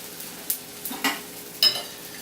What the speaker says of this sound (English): we're going to go ahead and flip the bread over